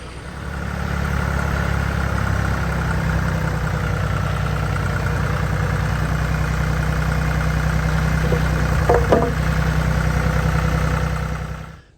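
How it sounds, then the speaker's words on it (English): A tractor engine runs steadily at a constant idle-like throb while fence posts are moved with hay forks on a farm, with a few faint clanks near the end before it stops. "I'm gonna make use of the tractor and the hay forks"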